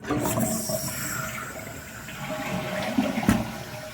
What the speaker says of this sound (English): this is the inside of my Delta toilet, and when we flush it